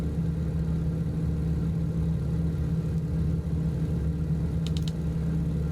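A T-6 Texan propeller engine drones at full throttle in Microsoft Flight Simulator, a steady low rumbling roar that holds without a break, with a few faint high ticks near the end.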